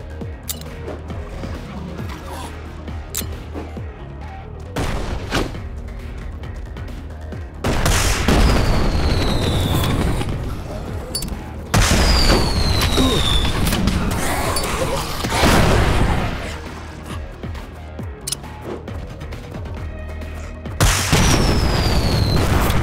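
Gunfire and blasts from an Android zombie shooter game, with loud bursts of weapon fire and booming impacts coming in several dense stretches, separated by brief quieter lulls filled with background game noise.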